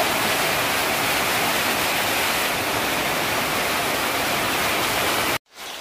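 Heavy rain pours outside during a downpour, a steady dense broadband hiss holding constant and loud throughout, then cutting off abruptly near the end.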